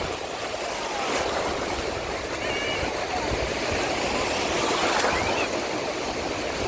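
Irish Sea waves wash and break continuously on the shore at Cahore Point in a light wind, a steady broad surf roar with faint voices now and then in the background.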